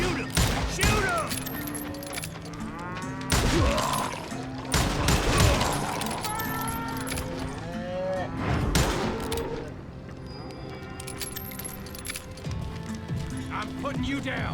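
Gunfire in the western shooter Call of Juarez Gunslinger: repeated sharp, loud shots in bursts during a frantic shootout, with horses and excited shouting voices mixed throughout.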